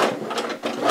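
A sewing machine stitches across a fabric zipper face mask in a short, close, rapid burst of mechanical chatter, dipping briefly before speeding up again.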